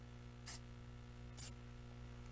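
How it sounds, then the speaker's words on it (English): Two short, soft hisses of a glaze sprayer aimed to the side, near an isomalt-decorated moon cookie, each puff under a second and evenly spaced over a low steady hum. "So I'm just going to give this a spray off to the side."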